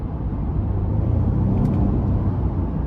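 A 2023 Honda Pilot EX-L with its 3.5-litre V6 accelerates in sport mode, giving a steady, loud low engine rumble heard from inside the cabin. There is no talk.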